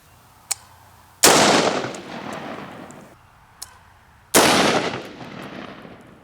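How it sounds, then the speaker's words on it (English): An AR-15 rifle firing .223 Federal 55 grain full metal jacket rounds at a steel plate: two loud, sharp shots with long ringing decays, each preceded by a small click, alone with no talk. "We're going to use a 223. It's Federal 55 grain full metal jacket out of our Wyndham Weaponry AR-15."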